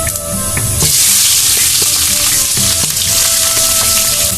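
Bay leaves, cumin and onions frying in hot oil for a Mirka fish curry, after the fish has been fried; a loud, steady broadband sizzle with scattered stirring clicks, close and continuous.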